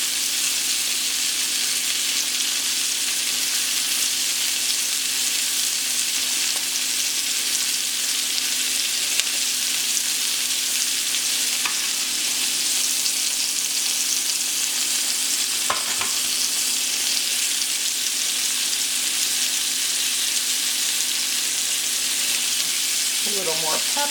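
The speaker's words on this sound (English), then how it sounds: "And now I'm going to add the steak." Already-cooked steak for a Philly cheesesteak sizzling loudly and steadily in a pan, a dense unbroken hiss with only a couple of faint knocks, no talking.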